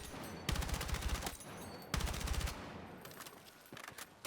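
Bursts of automatic rifle fire ring out at long-range targets in Battlefield 6, two rapid volleys of loud, close shots with a shorter burst at the end.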